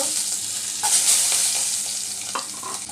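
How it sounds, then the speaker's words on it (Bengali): Four or five whole dried red chillies and garlic frying in hot oil for a rui fish and bitter gourd bhorta, a steady close sizzle with a brief stir or scrape partway through and no talking. "চার পাঁচটা গোটা শুকনো মরিচ বেজে নিচ্ছি রসুনগুলো একটু বেজে নিব"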